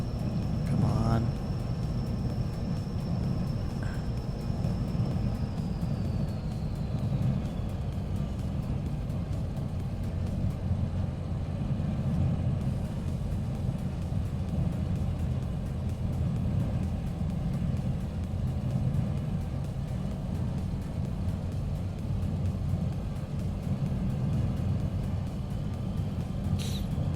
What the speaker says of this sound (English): open the window for when the turbos spool up here